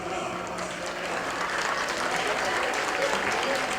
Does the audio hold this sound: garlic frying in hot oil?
no